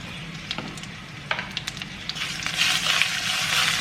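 Mustard, fenugreek, urad dal, curry leaves, dried red chillies and asafoetida tempering in hot oil for killi sambar, a steady close sizzle with scattered pops and crackles that thickens toward the end.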